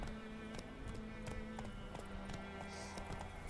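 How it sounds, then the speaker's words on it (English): Roach, the horse in The Witcher 3, canters with a steady, soft rhythm of hoofbeats under faint game ambience. "So that's what that is if you're just giving a slow little gallop."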